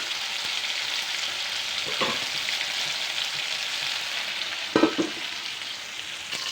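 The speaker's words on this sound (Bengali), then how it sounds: "মাংসটা প্রায় ভাজা হয়ে গেছে" Meat frying in oil in a pan gives a steady soft sizzle and crackle, with a few brief stirring scrapes and clatters against the pan, fairly quiet and close.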